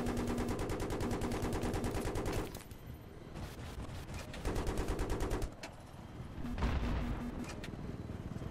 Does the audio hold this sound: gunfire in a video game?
yes